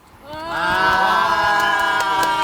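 An audience at a Korean talk show with people guarding the comfort women girl statue, gathered for a tteokguk eating session, breaks into cheering and applause that swells quickly and holds loud and close.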